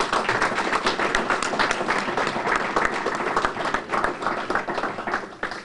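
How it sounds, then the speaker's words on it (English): Audience applause at a university press conference introducing a new coach: dense, continuous clapping from a crowd, close and loud, holding steady for several seconds before thinning slightly. "if you guys don't mind giving them an applause"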